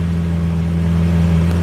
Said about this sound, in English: you guys are asking for one more rev